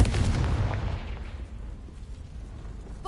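A Confringo fire spell cast in Hogwarts Legacy bursts with a loud, dense blast at the start that decays into a low rumbling tail, alone without talk.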